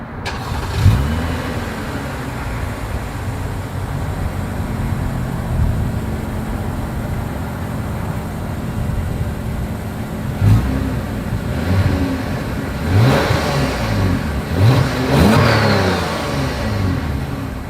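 A 2023 Lexus ES350 engine idles, then revs sharply several times near the back, each burst of exhaust rising and falling in loud, throaty pulses.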